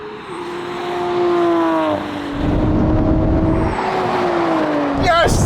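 A Lamborghini Aventador in a wet video game race, its engine revving and shifting loudly and continuously with rising and falling pitch, ending in a brief high tire squeal.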